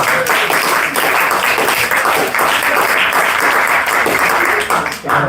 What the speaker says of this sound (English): If you can give him a big round of applause